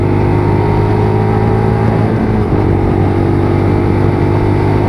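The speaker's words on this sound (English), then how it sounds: "Does sound good, and that is with a stock exhaust as well." A Lexmoto LXR motorcycle with its stock stainless exhaust system runs loud and close, a steady, heavy engine drone with strong low rumble and no speech, holding an even level throughout.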